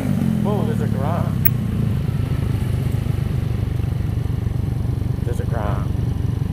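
A Honda Ruckus scooter with a GY6 engine is ridden on roads in Tennessee, its engine giving a steady, close, continuous drone throughout, with brief voice sounds over it.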